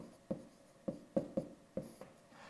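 Someone writes on a board during a retirement-planning lesson, making five short, scratchy strokes in an uneven rhythm. The strokes are close and fairly quiet, with no talking.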